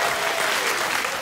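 Studio audience applause on a late-night talk show, a dense, loud wash of many hands clapping that holds steady throughout with no break.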